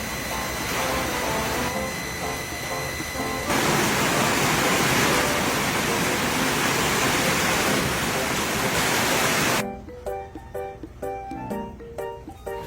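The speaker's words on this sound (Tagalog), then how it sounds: "Grabe, sobrang lakas nga ng buhos ng ulan ng mga araw na to." Heavy rain pours in a dense, loud wash for several seconds, then gives way to scattered drips and splashes.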